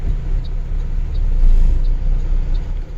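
Vehicles pass along a road in heavy afternoon rain in Kerala, a deep rumbling wash of tyres and engine swelling toward the middle and easing off, close and steady beneath the hiss of rain.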